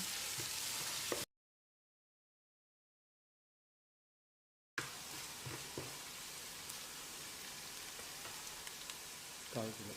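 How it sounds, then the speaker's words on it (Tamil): Chopped onions sizzle in hot oil in a pan for chicken kulambu, a steady close crackle broken by a silent gap, with faint stirring scrapes. "வெங்காயம் நல்லா பொன்னிறமாக வதங்கணும்"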